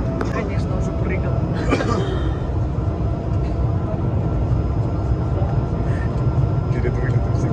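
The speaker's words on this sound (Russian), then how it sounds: "Ну что, мы сейчас будем взлетать." Passenger airplane engines roar steadily through a takeoff run, a loud continuous low rumble filling the cabin from start to finish, with people talking over it.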